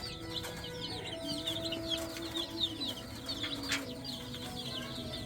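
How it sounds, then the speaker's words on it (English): Cornish Rock cross broiler chickens cluck and chirp in a group, a busy stream of soft repeated calls over a low steady background, fairly quiet, with no talking. "Oh, Cornish Rock cross broilers."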